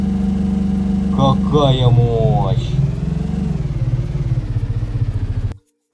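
A tractor engine in Minecraft drones steadily at a loud, even idle-to-driving pitch, briefly joined by a clattering rattle and a short spoken word, then cuts off abruptly near the end.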